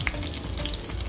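Spices tempering in hot oil for a Maharashtrian breakfast dish give a loud, steady, close crackle and sizzle that fills the short moment without a break.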